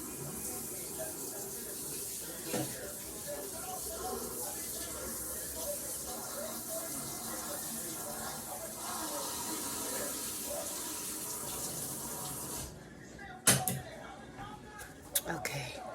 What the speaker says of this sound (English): So now I'm gonna wash the scissors, washing everything after